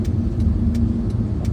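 Large vehicles move through traffic, a steady low engine rumble close by with faint intermittent clicks, no voices.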